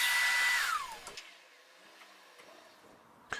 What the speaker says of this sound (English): Here I'm just cutting them to length on my miter saw.